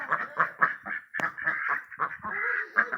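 Domestic ducks quack loudly and close by in a rapid, overlapping series of nasal calls, kept in a rural yard alongside turkeys, geese and country chickens.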